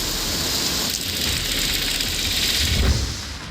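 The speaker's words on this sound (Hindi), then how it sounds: "यहाँ पिछले कई घंटों से लगातार बारिश हो रही है" Heavy, steady rain pours down in a storm during a cyclone with flooding and a red alert, a dense continuous hiss that swells slightly near the end, with no voices.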